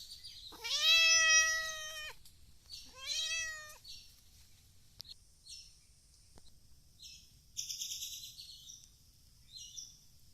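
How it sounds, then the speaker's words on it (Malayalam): A cat meows twice, loud and close, then gives several shorter, softer mews and chirps in an otherwise quiet room. "അസിനെ പൂച്ച ഹാപ്പിയല്ലേ"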